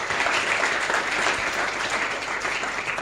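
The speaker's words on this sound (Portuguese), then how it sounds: "Você pode aplaudir forte o nome do Senhor Jesus." A church congregation claps together in a dense, steady wash of applause, moderately loud and continuous for a few seconds with no voices over it.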